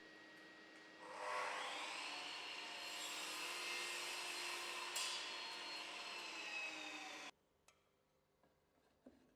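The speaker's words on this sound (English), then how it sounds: "The process of marking a scribed 90-degree joint begins with an internal mitre cut on the chop saw" A chop saw cuts an internal mitre in skirting board timber, the motor spinning up into a loud, high whine, biting through the wood for several seconds, then cutting off sharply and winding down, followed by a few small knocks.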